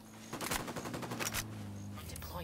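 A sniper rifle shot in Ghost Recon Wildlands, with a sharp report and reverberating echo among game effects and background music, and a brief voice in the mix.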